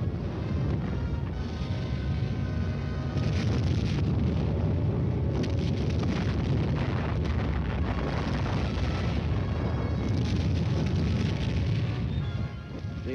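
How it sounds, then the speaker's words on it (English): A continuous roaring artillery barrage laying down supporting non-atomic fire, dense overlapping booms and rumble sustained throughout, loud and wide like a distant curtain of shelling, with an old film-soundtrack quality. "Meanwhile, the supporting elements lay down a curtain of non-atomic fire."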